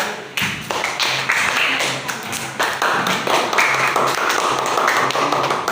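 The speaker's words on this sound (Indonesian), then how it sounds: "tepuk tangan dulu guys untuk yang sudah melakukan" A group clapping hands in a classroom-style setting, several bursts of close, uneven claps with short gaps between them, fairly loud and without talk.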